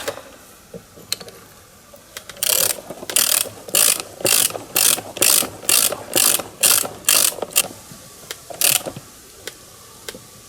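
A ratchet wrench fitted with a 24 mm socket clicks against a fitting on an Oleo-Mac PW 110 C pressure washer, giving a series of about ten loud, evenly spaced bursts of ratcheting, close up and alone.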